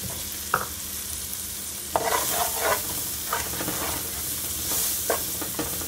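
Ingredients seasoned with jerk and all-purpose seasoning sauté in a pan for rasta pasta, giving a low continuous sizzle with intermittent scraping and clacking strokes of a utensil stirring, close by and with no voices.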